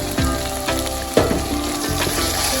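Onions seasoned with seasoned salt and ginger powder sizzle and fry in a pan, a continuous close hiss of crackling oil broken by occasional stirring scrapes and a sharper pop partway through, with no voices.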